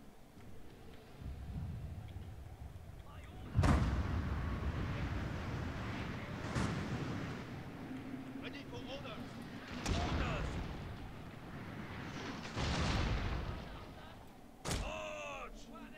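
Cannons fire in the Total War: Shogun 2 strategy game, including crude wooden cannons, as several heavy booming blasts that arrive a few seconds apart over battle ambience, with someone talking between the shots.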